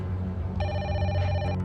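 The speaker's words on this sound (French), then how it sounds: "Il est 18h lorsque le téléphone de Janine sonne" A telephone rings with a bright, electronic chiming tone that starts partway through and sustains, heard close over a low background murmur.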